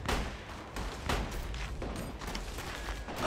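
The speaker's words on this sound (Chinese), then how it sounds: "南边开打了，听着枪声，动静还不小。" Gunfire from a battle scene in a war film about Eighth Route Army soldiers fighting Japanese troops, heard as a dense, continuous stream of overlapping shots and booms with heavier bursts, loud and sustained throughout without talk.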